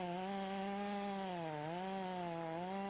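A chainsaw engine strains while cutting through a tree trunk, holding a steady buzzing drone whose pitch sags and recovers under load, moderately distant and continuous throughout.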